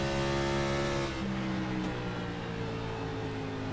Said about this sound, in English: You can hear that Supra screaming.